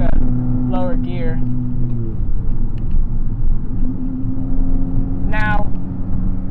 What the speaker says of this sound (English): I find this exhaust drone annoying.